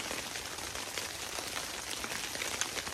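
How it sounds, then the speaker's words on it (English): Rain falling steadily outside during a snowstorm camping trip, a soft continuous patter of drops on nearby surfaces, faint and even with no voices. "It's still raining."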